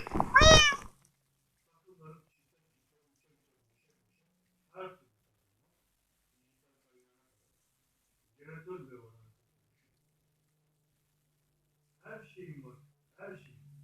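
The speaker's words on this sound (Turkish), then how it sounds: "buraya kedimizi getirmiştim" A loud cat meow opens, followed by several fainter, short meow-like calls spaced apart in a quiet room.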